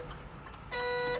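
Turn signal on a 1977 Datsun 620 King Cab, where a working left blinker sits beside a faulty right one that sounds the horn, gives one loud, steady tonal honk or buzz lasting about half a second after quiet cab noise.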